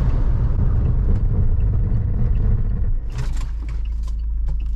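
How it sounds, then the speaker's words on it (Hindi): Cabin noise of a Mahindra Scorpio S11 cruising on a highway at 120 km/h, a loud low rumble of engine, tyres and wind that dips briefly and carries on steadily. "Scorpio S11 eight 120।"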